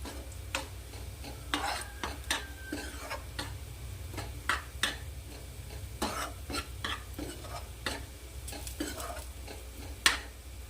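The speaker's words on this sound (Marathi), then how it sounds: "याला पण छान असं परतून घ्यायचं आहे" Ambadi (roselle) greens being stir-fried in a pan, with scattered scraping strokes and light clicks of a spatula over a low, steady background hum, no voices.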